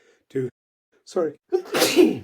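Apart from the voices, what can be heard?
sneeze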